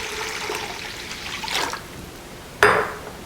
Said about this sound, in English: Then you want to add 4 cups of water